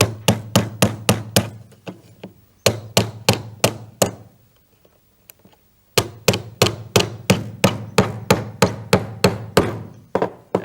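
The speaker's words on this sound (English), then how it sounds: "take one of your nails and gently hammer it in" A hammer drives a nail through one edge of a mouse trap into a wooden block with crisp, loud, evenly spaced taps in quick runs, broken by a brief quiet pause before the rapid striking resumes.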